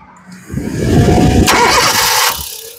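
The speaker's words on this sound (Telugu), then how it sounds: "సింగిల్ సెల్ఫ్ లో కార్ స్టార్ట్ అయితే" A 2013 Honda Brio EX engine cranks briefly and catches, settling into a steady, fairly loud idle close by.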